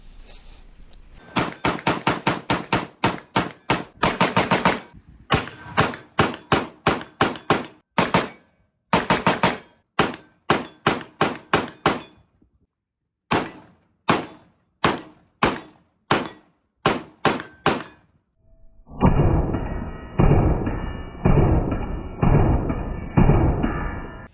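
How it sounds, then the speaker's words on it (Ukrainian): A long series of sharp, loud shots from a Tinck Arms AR-15 carbine, fired singly and in quick strings, with a muffled, echoing burst of rapid shots near the end. "напевно, що пора стріляти"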